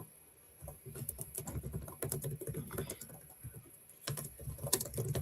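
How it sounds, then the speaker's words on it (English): Clicky keystrokes on a computer keyboard patter in irregular bursts and short runs, close and fairly quiet, with brief pauses between flurries and no talking. "I just hear him typing."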